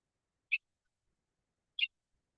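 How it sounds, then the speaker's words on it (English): Pet birds indoors give two short, high chirps about a second apart against an otherwise silent room. "Zion, come feed the birds."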